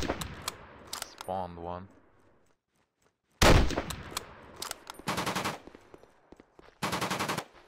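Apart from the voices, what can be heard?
anti-aircraft gun firing in video game Battleground Europe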